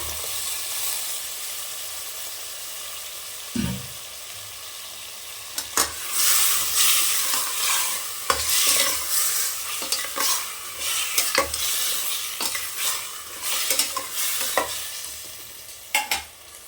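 Mutton pieces for a mutton fry being stirred in a hot pan: a quiet hiss, then a sharp clunk, then loud, irregular scraping and sizzling strokes from a spatula in bursts, close up and with no voices.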